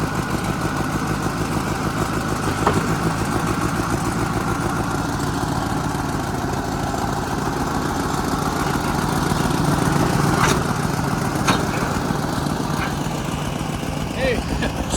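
An abandoned White 2-44 forklift engine runs steadily close by, a continuous rough idle-like drone with faint knocks, holding an even level throughout.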